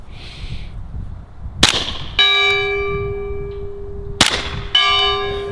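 A rifle bullet strikes a steel gong target twice, each a sharp crack followed by a loud ringing metallic tone that sustains and slowly decays, the two hits a few seconds apart with quiet outdoor air between.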